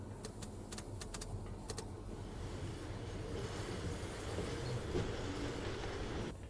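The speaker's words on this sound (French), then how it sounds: "Et je vais pousser ce wagon." A rail wagon is pushed along track in the video game Firmament, giving a steady low rumbling roll with a few sharp clicks at the start, moderately loud and alone with no talk.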